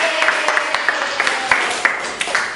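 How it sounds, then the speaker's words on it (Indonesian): Classroom applause for student groups after their answers, a steady patter of many hands clapping at moderate volume with no talk over it. "Tepuk tangan dulu untuk kita semua"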